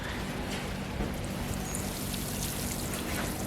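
Continuous splashing and trickling water poured onto water spinach plants, steady and soft throughout with a low hum underneath.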